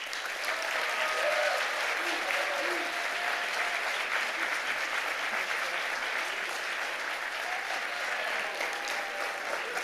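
A crowd at a college anniversary awards dinner keeps up steady, even applause for the full stretch, a broad wash of many hands clapping with faint voices mixed underneath.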